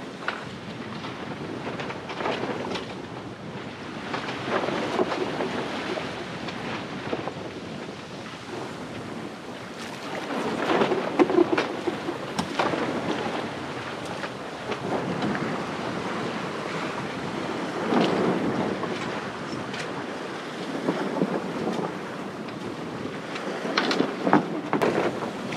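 Wind and waves at sea heard aboard a sailboat: continuous gusty wind noise buffets the microphone while waves surge and splash in recurring swells, loud and close, with no talk.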